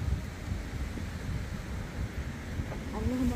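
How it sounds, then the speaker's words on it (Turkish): Gusty wind during a storm in Germany buffets the microphone with a low, rumbling roar that swells and fades, a faint tone rising near the end. "Oo, rüzgar geldi."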